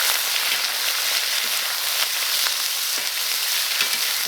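Chicken pieces stir-fry in a generous amount of oil in a wok, giving a loud, steady, dense sizzle throughout with faint stirring scrapes.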